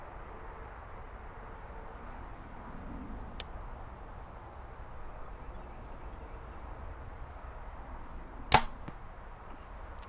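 During outdoor 3D archery practice, a bow looses an arrow at a foam animal target. Against a soft, steady background hush come a faint early click and, later, a sharper, louder snap, both brief and isolated.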